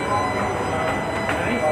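A Kolkata Metro train in motion, heard from inside as a continuous rumbling roar of wheels and carriage, steady and fairly loud, with faint voices beneath.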